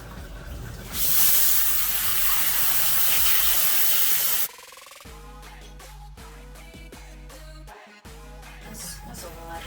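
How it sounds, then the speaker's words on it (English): Running water hisses and sprays loudly from a tap over a tie-dyed shirt for a few seconds, then cuts off, leaving quieter dripping, wet handling and light clatter. "Go ahead and rinse the blue one some more."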